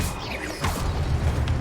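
A Stupefy spell cast as a Hogwarts magic effect: a whooshing rush that swells into a rumbling, crackling impact and lingers loudly for the rest of the moment.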